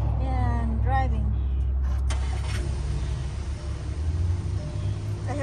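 Car engine running while driving, a steady low rumble throughout, with a person speaking briefly over it at the start.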